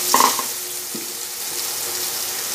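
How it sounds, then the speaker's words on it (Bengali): Cut potato fries in hot oil with turmeric, salt and spices for a fish-head and ash gourd dish, giving a steady close sizzle after a brief clatter at the start. "এবার আলুটা একটু ভেজে নেব।"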